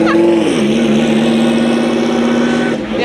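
A Super Trofeo race car roars past on the track at VIR, loud and close, its engine note dropping sharply as it goes by and then holding a high, sustained wail.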